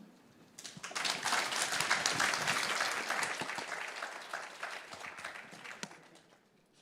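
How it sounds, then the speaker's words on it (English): Conference audience in Hong Kong applauding, a dense burst of clapping that starts suddenly, stays full for a few seconds and then thins out gradually, with a few scattered claps lingering at the end. "Please join us in giving all the 4 outstanding speakers another round of applause."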